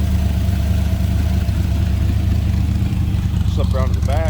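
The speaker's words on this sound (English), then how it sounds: "Nice sounding car. 1933 Ford Victoria street rod." A 1933 Ford Victoria street rod with a 350 small block, four-barrel carb and side exit exhaust pipes, idling with a steady low rumble, and someone talking over it near the end.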